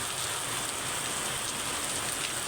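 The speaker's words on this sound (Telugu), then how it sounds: "మళ్ళీ వర్షం పడుతుంది" Steady monsoon rain pours down in a dense, even hiss over a village, with drops pattering on surfaces and no voices.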